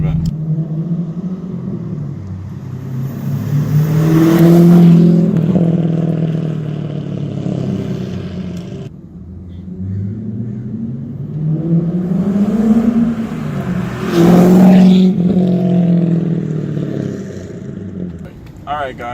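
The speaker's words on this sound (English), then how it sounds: "We need some flybys of the Corvette." C5 Corvette making two flybys, each pass swelling from a distant rumble to a loud engine roar as it goes by, then fading away again.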